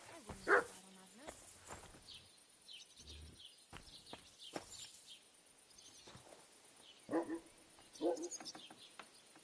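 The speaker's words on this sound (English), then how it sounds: "What are you barking like that for?" A dog barks in a medieval village in the video game Kingdom Come Deliverance 2, several short sharp barks spread irregularly amid quiet ambient game sounds.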